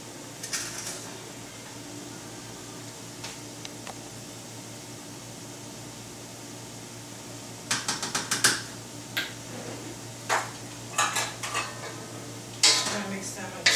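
Salt and sugar are stirred into food with a utensil, sparse at first, then a cluster of sharp clicks and scrapes against a bowl, quiet and close, with no talking.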